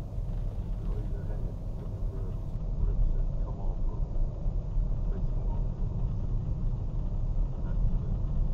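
Car driving through the vast Forest of Dean between Coleford and Cinderford, a steady low road rumble with some wind noise, continuous and fairly loud throughout with no talking.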